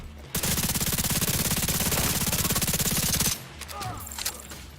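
Sustained automatic gunfire in The Division 2 rattles on as a loud, fast, even stream of shots for about three seconds, then cuts off into quieter game ambience.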